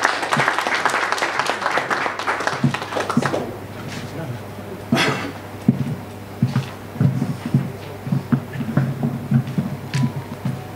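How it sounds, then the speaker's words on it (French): Applause at a UDPS youth league meeting in Brussels, loud sustained clapping from a crowd for the first few seconds, then thinning into scattered claps and noise with voices underneath. "Sous vos applaudissements"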